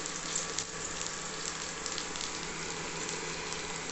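Onions frying in hot oil in a pan for a tondakaya (ivy gourd) fry, a steady broadband sizzle with small crackles running the whole time, close and fairly even, with no talking.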